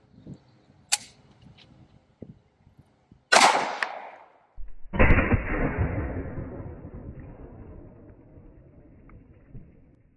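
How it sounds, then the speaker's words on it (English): .45 ACP Federal Punch rounds fired at a melon outdoors: a sharp distant crack, then a loud close gunshot, and a second heavy boom that rolls away in a long fading echo. "Next, we're going to shoot some melons"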